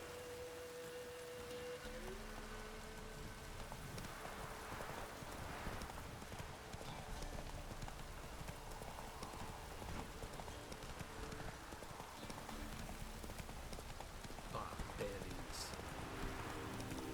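Horse hooves clip-clop steadily throughout a stretch of The Witcher 3 gameplay, mixed with a rain-like wash and in-game music, with a faint voice now and then.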